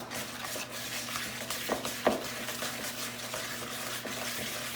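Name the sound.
mixing brown sugar into cookie dough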